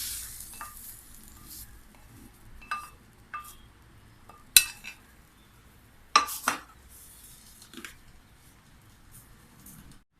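Keto egg scramble scraped out of a frying pan onto a plate, with spatula scrapes and a few sharp metallic clinks over a faint low sizzle, close and with no talking.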